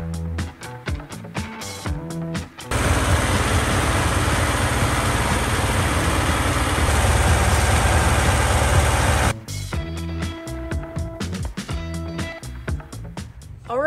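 VW Beetle stroker engine running at a steady 1500 to 2200 RPM during cam break-in, a loud continuous low rumble lasting around seven seconds, with cut-up clattering sounds before and after it.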